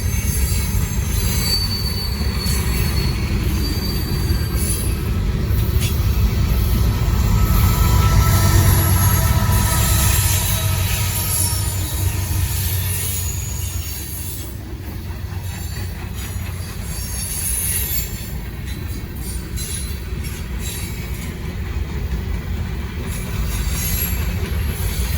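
A Norfolk Southern freight train led by a GE Dash-9 locomotive rolls past close by, with loud, sustained wheel squeal over a heavy rumble of railcars and a steady clatter that eases slightly midway.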